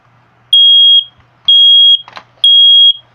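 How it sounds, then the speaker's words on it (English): A smoke detector under test sounds three loud, piercing beeps of about half a second each, evenly spaced and close by, with a faint low hum and a brief clatter between the second and third beeps. "that has been the smoke detector testing video"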